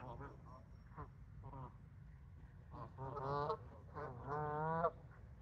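Several Canada geese honk in short nasal calls near a car park, a few scattered early then louder bursts near the end, over a low background hum.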